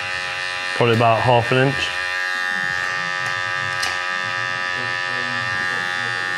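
Electric hair clippers with an open blade set to 0.5 buzz steadily during a skin fade haircut at a barbershop, a close constant hum throughout while someone speaks briefly over it.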